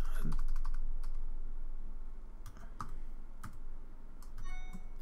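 Typing on a computer keyboard while coding, with bursts of quick sharp key clicks separated by short pauses, close and clear against a quiet room.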